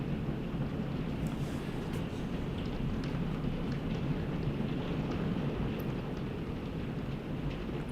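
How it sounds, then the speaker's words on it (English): Thunder during an old-fashioned summer thunderstorm, a dense, steady low rumble that fills the whole stretch with rain-like hiss and wind buffeting on top, no clear single crack standing out. "Big lightning and a loud thunderclap."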